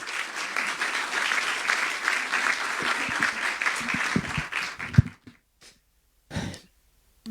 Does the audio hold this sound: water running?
no